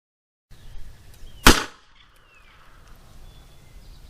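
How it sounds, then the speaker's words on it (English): One loud, sharp gunshot cracks from a Ruger Alaskan .454 revolver firing factory Speer 45 ACP rounds outdoors, followed by a fading tail and faint ambient sounds. "Let's put these rounds downrange and see what factory Speer 45 ACP"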